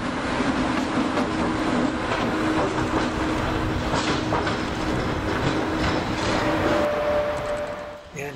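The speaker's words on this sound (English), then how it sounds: "Here's that Italian private engine coming back" An Italian private railway locomotive passes at close range near the poppy fields of Cremona, its wheels clattering steadily over the rails with a continuous rumble and a faint squeal near the end.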